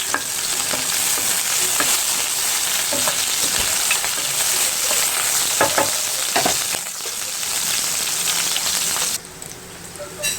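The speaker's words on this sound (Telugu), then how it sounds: "ఆయిల్ వేడెక్కిపోయిందండి. చిల్లీ వేసేసుకుందాం. చిల్లీ వేసుకుని ఒకసారి కలుపుకుందాం." Chillies frying in hot oil in a pan while being stirred, giving a loud continuous sizzle with scattered crackles and scraping spoon strokes. The frying carries on unbroken, with no talk.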